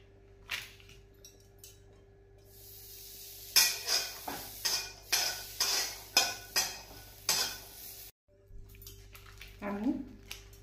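Pistachios crisp in butter in a pan, starting with quiet scattered clicks and then moving into a rapid run of loud, rhythmic stirring and scraping strokes over a sizzle before a short pause.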